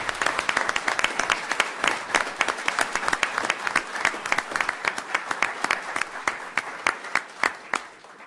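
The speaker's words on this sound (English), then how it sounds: "So can we go ahead and give a round of applause to these young artists?" An audience at a city council meeting applauds young art contest winners, a full round of many hands clapping, close and lively, tapering off slightly toward the end.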